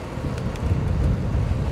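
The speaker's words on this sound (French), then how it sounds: "Le vent est revenu." Wind buffets the microphone of a cyclist riding a long-distance winter route, a steady low roaring rumble with gusty swells and no talking.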